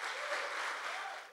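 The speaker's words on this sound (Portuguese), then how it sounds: "Dá um aplauso para Jesus." A church congregation claps steadily in a short burst of moderate, even applause with no voices over it, fading slightly at the end.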